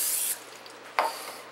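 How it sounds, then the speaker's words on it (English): Vegetable cooking spray hisses into a glass baking pan for a berry crumble, first in one short burst and then in a second quick puff after a pause. "I'm going to spray it real good with vegetable spray"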